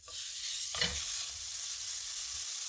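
A giant turkey patty drops into a hot pan with a sudden burst of sizzle, then settles into a steady, soft frying hiss heard alone.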